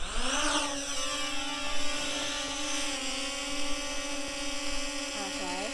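Small drone rotors spinning up for takeoff at a camp or trail site: a steady high whine with climbing and bending harmonics, near and loud, holding a continuous tone throughout.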